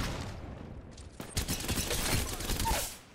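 Gunfire from the Apex Legends video game, starting with a sharp report and building into a dense run of shots, with a voice faintly underneath.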